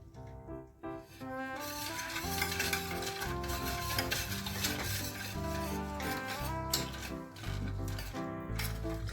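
A mixture is stirred and blended in a pan with continuous scraping and rubbing against the metal, partly masked by loud background music playing throughout.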